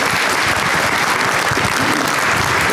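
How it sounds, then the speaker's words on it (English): A crowd applauds Brian at a May 2019 incubator event, with steady, full clapping from many hands throughout, even and sustained with no voices on top. "All right, nice round of applause for Brian."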